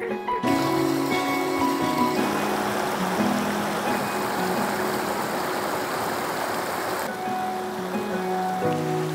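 Water bottles are filled from a rushing mountain stream along Canada's Icefields Parkway; the water runs as a continuous loud splashing wash, with steady musical tones layered over it.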